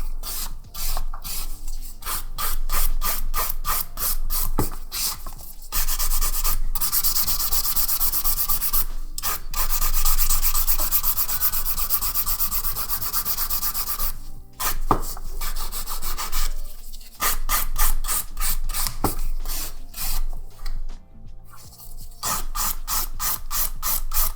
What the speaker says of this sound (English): It even smells funny when you file it.